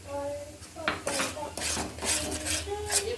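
Powdered sugar being mixed into a sweet filling in a pan for bread malai rolls, with repeated metal scraping and clinking of a spoon against the pan in a steady rhythm, close and fairly loud, no talking.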